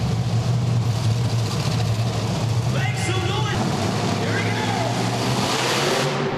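Bigfoot monster truck engine roars continuously at an outdoor arena competition during a sky wheelie, loud and sustained throughout with crowd noise and an announcer talking over it.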